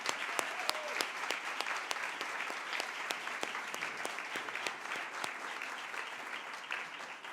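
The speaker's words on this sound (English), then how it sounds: "one big round of applause for all of our sponsors for today's forum." An audience at a women's wealth forum in Central Ohio applauds the sponsors, sustained dense clapping with crisp individual claps popping out, moderately distant and even in level, with no speech.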